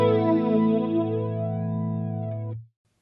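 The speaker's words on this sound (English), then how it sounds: "when we have a flanger added to the mix, instead of the chorus sound being flanged, we have our clean unprocessed signal being flanged independently" A guitar chord runs through flanger and chorus effects in parallel and rings out with a shimmering, sweeping swirl, then is cut off abruptly near the end.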